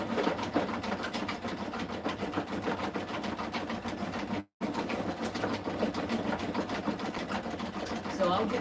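A sewing machine runs a decorative stitch on fabric icing strips, a steady, close mechanical whirring with a rapid needle rhythm that halts briefly midway, then resumes.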